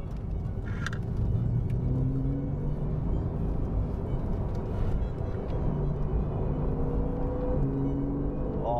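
A Porsche 911 991 engine pulls hard through the gears, a loud continuous drone with rising tones that drop back at each shift, heard from inside the car with no talk over it.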